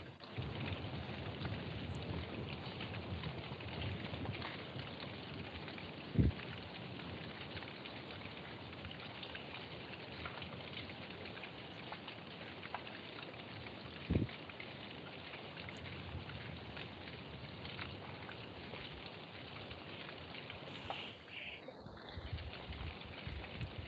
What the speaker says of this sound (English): the first sound is the rain sound, and then the second sound is the thunder